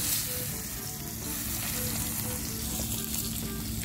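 Food frying in a pan at an outdoor picnic, likely eggplant or egg: a steady, dense, loud crackling sizzle that holds evenly throughout, close by, with no talking.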